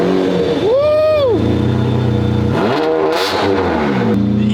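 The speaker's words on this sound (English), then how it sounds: "Ferrari cold start!" A 1999 Ferrari V12 cold-starts and idles loud and close, with two sharp throttle blips that climb and fall in pitch over a steady, rumbling idle.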